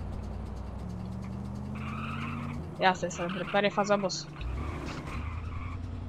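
A battered, falling-apart car in GTA San Andreas multiplayer runs with a steady engine drone, then bursts into a stretch of loud, stuttering rattles and squeals before settling back to the drone, while someone talks over it.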